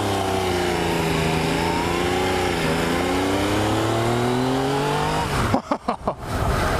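A 2016 Yamaha XSR900 motorcycle accelerating hard in first gear, a loud rising engine howl that sweeps upward, then a series of sharp bursts as the throttle snaps on and off.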